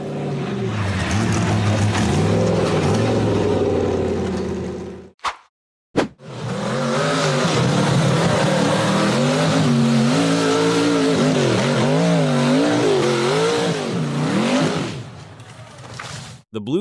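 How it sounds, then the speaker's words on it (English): A blue-framed off-road buggy engine roars under heavy throttle, climbing over boulders on a steep rocky forest hillside, with revs rising and falling, a brief cut-out, then sustained loud wailing. "on the throttle, the engine roaring as the tires clawed over massive boulders and kicked up thick clouds of dust"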